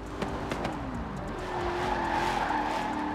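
A C8 Stingray in Forza Horizon 4, driven with a steering wheel and shifter, skids with a squealing tire whine over continuous engine drone, steady and fairly loud, with a few sharp knocks early on.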